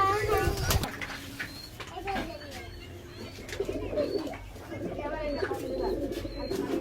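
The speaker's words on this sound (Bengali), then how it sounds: "এই দেখুন এটা মাদা পায়রা আছে।" Teddy pigeons cooing in a loft, repeated soft throaty coos and some chirps close by, with someone talking over them and other background noise.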